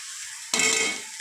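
Noodles stirred in a pan for chowmein, a sudden burst of scraping and sizzling that begins midway and fades slightly toward the end, close and moderately loud.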